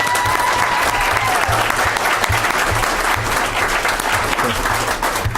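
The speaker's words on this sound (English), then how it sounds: "let's give her a round of applause" Sustained applause from a crowd, steady and dense clapping throughout, fairly loud and close.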